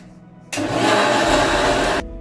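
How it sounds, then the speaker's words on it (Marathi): A mixer grinder churning cream into butter for homemade ghee, running in one loud, steady whirring burst of about a second and a half that starts and stops abruptly, with no talk over it. "आता हे सगळं मिक्सरला फिरवून घ्यायचं"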